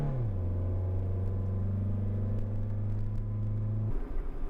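A Gen3 Acura Integra engine revs up under throttle, a steady rising drone with strong low harmonics holding for about four seconds before dropping off abruptly, close and loud with no talk.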